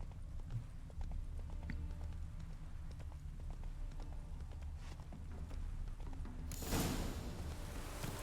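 Roach the horse's hooves clip-clop in The Witcher III, a steady rhythmic patter under a constant low ambient rumble, ending with a brief burst of noise.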